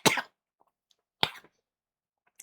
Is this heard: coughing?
yes